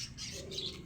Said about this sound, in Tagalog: Ayun ang kalapati to, nakawala oh.